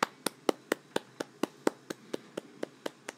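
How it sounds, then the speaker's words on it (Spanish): A single person claps slowly and steadily, about fourteen crisp, evenly spaced hand claps, close and fairly quiet with no other sound. "Un aplauso"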